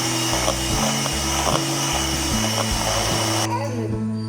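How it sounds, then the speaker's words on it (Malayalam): An electric mixer or blender whirs steadily through dalgona cake batter for a no-oven cake, its loud motor drone pulsing in short bursts and cutting off abruptly near the end. "നന്നായിട്ടൊന്ന് മിക്സ് ചെയ്തെടുക്കാം"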